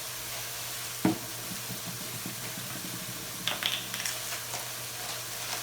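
Vegetables for chicken fajitas sizzle in a pan, a steady low frying hiss with occasional scrapes and clinks as they are stirred.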